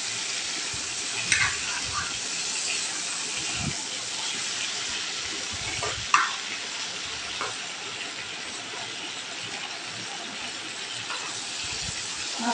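Hilsa fish pieces frying lightly in oil, giving a continuous bright sizzle with a few soft knocks and spatula touches over about twelve seconds, close and steady with no voices.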